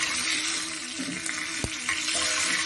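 About two teaspoons of fenugreek (methi) seeds frying in hot oil, a brief steady sizzle with a few sharp crackles and a single clink partway through.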